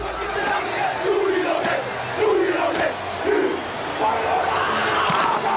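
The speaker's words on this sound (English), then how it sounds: "The haka is both a chant and challenge." A football team performs the haka, a New Zealand chant and challenge, at a game: a loud crowd-backed group chant with rhythmic shouted bursts rising and falling steadily, no single voice standing out.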